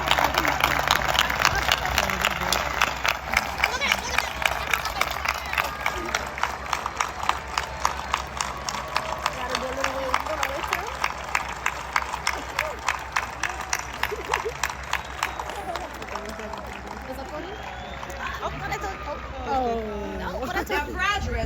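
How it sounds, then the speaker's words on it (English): Sustained applause from a large crowd celebrating the graduating class at a Stony Brook University commencement, dense rapid clapping that continues steadily and then thins slightly toward the end, with crowd chatter mixed in. "join me in a round of applause in celebration of the class of 2024"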